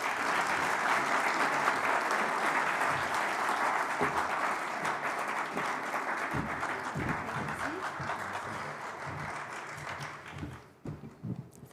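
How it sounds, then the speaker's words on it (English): Audience applause for an ambassador at a business forum in Namibia, a dense sustained clapping from a large crowd that thins out and fades toward the end. "A round of applause for her,"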